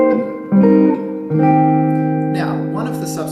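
Jazz guitar strumming minor 7 drop 2 chord voicings, each chord rung out and left to sustain, three chords in succession with a brighter, busier passage toward the end.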